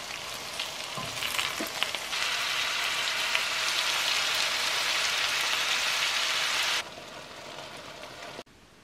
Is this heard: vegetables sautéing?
yes